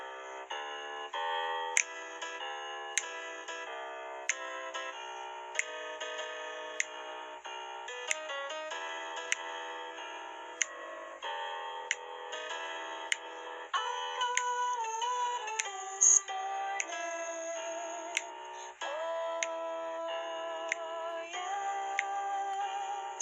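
Jazzy song with piano chords and finger snaps, a bright tune running steadily throughout with regular sharp snaps punctuating the beat.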